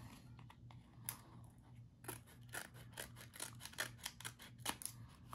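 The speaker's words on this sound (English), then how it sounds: "So try to cut the excess off so it's easier to handle." Scissors snipping off excess material in a run of quick close crisp cuts, irregular and overlapping, quiet overall with no talking.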